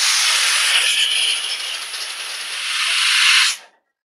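Pressure cooker on a kitchen stove while chicken curry cooks, giving one long loud steady whistling hiss of steam that cuts off abruptly, with no talking.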